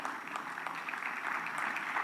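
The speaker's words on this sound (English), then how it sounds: "You can clap, it's all right." Audience at a sustainability summit keynote applauding, a steady, moderately quiet patter of many hands clapping that holds evenly throughout, with no speech over it.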